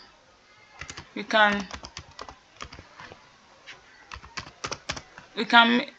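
Irregular clicks of typing on a computer keyboard, close and crisp in short bursts, with a person talking in between.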